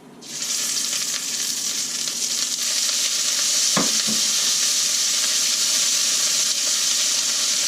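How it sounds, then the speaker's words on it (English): Venison pieces sizzling in hot, smoking oil in a pan, a loud continuous frying hiss with a brief scrape of stirring partway through. "So again, I'm just browning these on the side"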